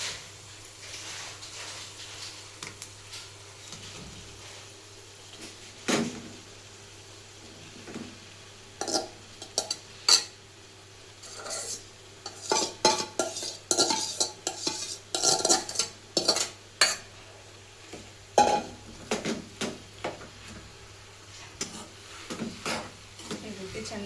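Intermittent scraping and clinking of a spatula stirring potatoes in oil in a pan, in irregular bursts that grow busier, over a faint steady hum.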